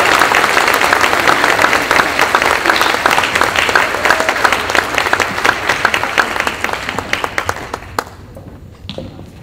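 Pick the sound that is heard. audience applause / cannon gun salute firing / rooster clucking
audience applause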